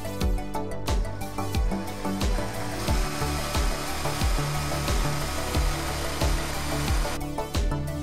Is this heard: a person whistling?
no